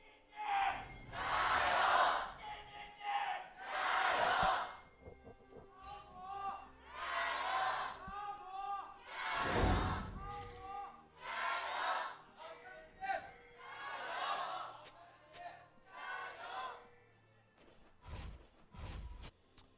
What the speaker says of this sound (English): Does sound like the crowd leaning a little bit in favor of EDG here